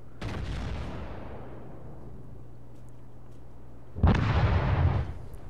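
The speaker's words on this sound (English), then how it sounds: "he's going to stay angled and take one shot into this guy's superstructure, and that's going to be enough to kill that Nagato" Heavy naval gun fire aimed at a Nagato battleship in World of Warships, with a deep booming shot at the start, a rumbling lull, then a second loud blast with a rolling tail.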